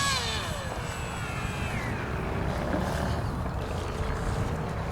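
An FF-Sabre Warrior RC model jet flying in to land, a faint, steady engine whine over outdoor background noise, with a fading high tone early on and no talking.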